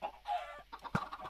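In the shooting video game Chicken Strike, a chicken gives a quick series of clucks and squawks, close and fairly loud, over one second with no talk.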